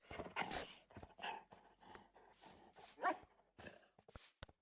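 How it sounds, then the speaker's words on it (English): Several short dog barks and yips from dogs in a video game, in quick, uneven bursts, fairly close and moderately loud, with varied pitches. "You even have different barking sounds than the other kinds."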